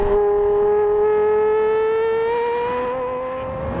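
A Porsche Carrera GT engine holds a loud, steady, tonal howl whose pitch climbs slowly through the rev, close and continuous with no one talking.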